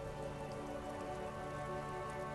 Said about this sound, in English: rain falls on the great city of Rivershore. Rain drips from the eaves and floods the gutters